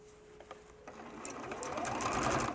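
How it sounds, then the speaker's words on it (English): A sewing machine repairs a tear in a fabric stuff sack, starting with a few faint clicks and handling sounds, then ramping up into a soft, close, steadily building motor whir with rapid stitching. "so that I can just sew this one area of the bag"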